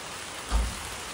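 Heavy rain pours down during outdoor Diwali preparations, a dense even hiss with one brief low thud in the middle, with no voices.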